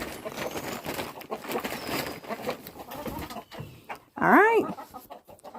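Chickens and roosters cluck and call in a farm coop amid shuffling background noise, with one loud, close squawk near the end and someone speaking briefly.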